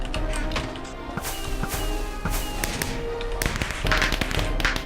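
Video-game fireworks set off indoors hit the carpet and skitter at odd angles, giving a busy run of rapid pops, taps and crackles over a faint tonal background.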